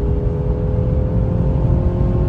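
Artificial engine sound in a Mercedes C-Class set to Sport Plus, a steady low droning hum with faint whirring heard from inside the cabin while cruising, continuous and without voices.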